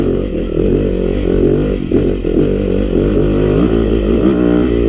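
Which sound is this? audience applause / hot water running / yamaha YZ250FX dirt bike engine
yamaha YZ250FX dirt bike engine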